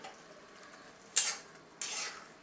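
A spoon stirs palak pithla, a spinach and gram flour dish, in a pan: two short, sharp scraping clinks about half a second apart, each trailing off, over a quiet background.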